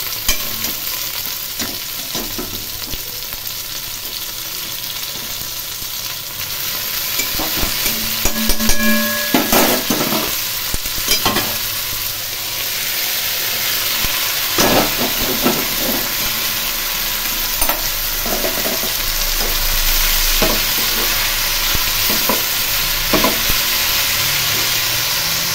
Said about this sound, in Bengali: এখন এই মোচাগুলো আমি এর মধ্যে দিয়ে ভেজে নেব।